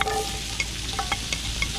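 Onions hit rendered shark fat in a pot over a seaside campfire, giving a dense, close sizzle with little pops and a few brief clinks across a short moment.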